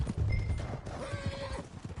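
Horse hooves clip-clop in the Red Dead Redemption video game, a quick run of hoofbeats joined by a horse's neigh, moderately close and steady.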